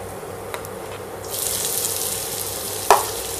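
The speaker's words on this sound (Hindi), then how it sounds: "तो इसको आपको हल्का ही भूनना है, ज़्यादा नहीं भूनना है।" Food being lightly fried and stirred in a pan for veg badshah, a low bed of sizzling that swells into a brighter hiss, broken by a couple of sharp utensil knocks.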